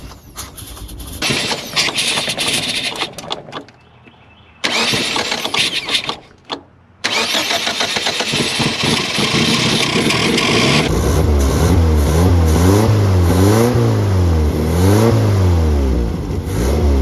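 An abandoned 1980s Mazda truck engine turns over and stalls twice. It then catches and runs loud and steady, revving up and down in a rising and falling pattern close by.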